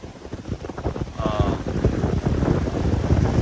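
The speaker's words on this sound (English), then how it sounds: "So the wind today has been gusting 33 miles an hour." Blustery wind gusting to 33 mph in Antique, Philippines buffets the microphone in a continuous rough roar, strengthening partway through, with a faint brief tone in the background.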